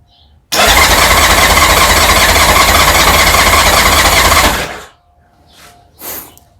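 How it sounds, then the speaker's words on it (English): A 1991 Honda Goldwing SE motorcycle engine cranks loudly on its starter for about four seconds without firing, then stops, leaving a brief faint rattle and a short noise afterward. "we crank the bike. It cranks, won't fire, won't start."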